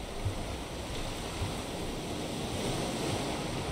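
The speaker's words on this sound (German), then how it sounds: "Wellengang wird heftiger." Rough ocean waves in the survival game Raft roll and hiss as a continuous, dense wash of surf with wind noise, steady and fairly loud throughout, with no voices.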